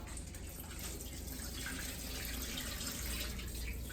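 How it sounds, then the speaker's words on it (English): Hot water runs steadily from a faucet into a sink, a close, continuous hiss and splash with no pauses. "you want to make sure that the water is hot coming out of the faucet"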